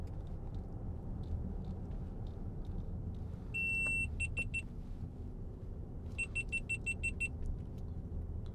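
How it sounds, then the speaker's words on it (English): An overheating camera emits sharp electronic warning beeps in two bursts, a short run of rapid pulses followed by a longer string, over the low rumble of a moving 2015 Range Rover SD V8 Autobiography. "That's one of my cameras overheating."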